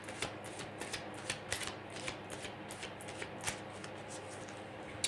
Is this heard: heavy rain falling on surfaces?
no